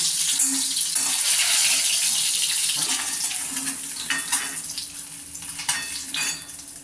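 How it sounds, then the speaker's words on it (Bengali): A steady, bright sizzle of an egg frying in hot mustard oil, with occasional clinks of a utensil against the pan. "এখন আমি ডিমটাকে একটু সরিষার তেলে ভেজে নিব।"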